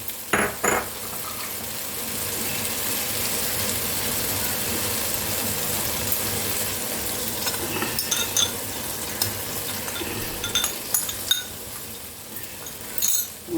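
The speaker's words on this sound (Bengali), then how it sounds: "মশলাটা ভালো করে কষবো আমি" Spice paste for a cauliflower and potato curry frying in oil while being stirred, a steady close sizzle running throughout with occasional clinks of a utensil against the pan.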